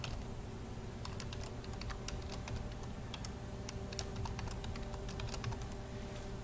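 A password is typed on a computer keyboard in a quiet room: rapid, irregular clicks of keys follow one another for several seconds, close and crisp, with no voices.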